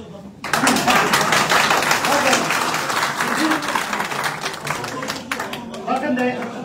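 An audience at a traditional breakfast meeting breaks into loud, sustained applause lasting several seconds, with voices chattering underneath the dense clapping.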